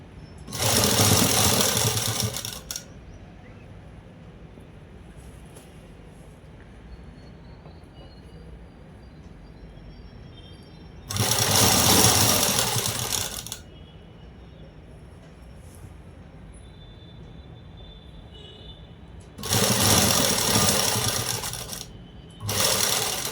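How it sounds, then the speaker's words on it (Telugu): A sewing machine stitches cloth in three loud bursts of rapid mechanical clatter. Quiet pauses separate the bursts, and a fourth run starts at the very end. "క్లాత్ని పక్కకు జరుపుకుంటూ కుట్ అనేది వేసేసుకోవాలి"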